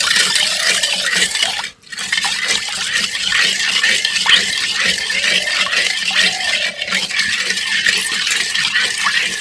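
A cornflour and salt batter thinned with water is stirred without pause in a kadai as it thickens, giving a steady, fairly loud scraping swish that runs throughout with one brief pause and no talking.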